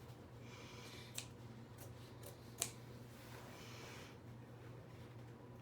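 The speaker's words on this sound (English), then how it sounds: "Make a tiny little snip in it." Scissors make a few faint, quick snips as they cut a small slit in a pair of Levi's denim jeans. The snips sound close and sparse over quiet room noise.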